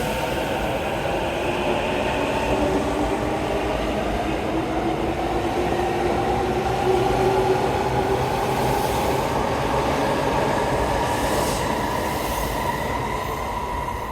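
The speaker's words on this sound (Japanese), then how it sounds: "この電車は当駅終点ではなく南浦和行きなので、素早く東京駅から去っていきます" Commuter train bound for Minami-Urawa pulling out of Tokyo Station, a steady rolling rumble with rising motor whine and faint wheel squeal that continues evenly throughout, fairly close, with no talking.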